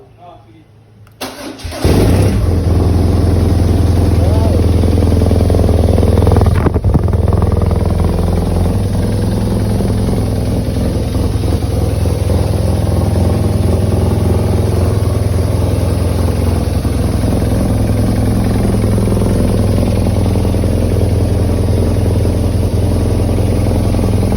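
A borrowed, plain-looking motorcycle starts up after a short quiet moment, then settles into a steady, loud, close idle that runs on for about twenty seconds while it warms up.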